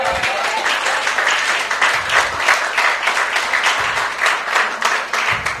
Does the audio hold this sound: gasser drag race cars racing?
no